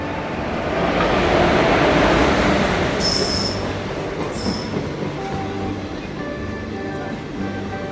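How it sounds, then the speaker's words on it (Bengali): Katwa–Azimganj MEMU passenger train heard from on board while running: a loud continuous rumble of wheels on rails with rhythmic clatter and brief high wheel squeals, close and steady throughout. "এটি হলো আমাদের Katwa Azimganj memo passenger train"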